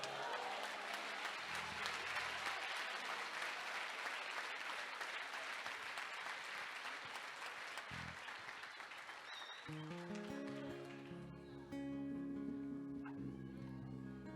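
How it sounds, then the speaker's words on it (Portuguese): A church congregation breaks into strong applause, a loud, dense clatter of many hands that carries for most of the stretch before giving way to music near the end. "dê um aplauso forte ao Senhor"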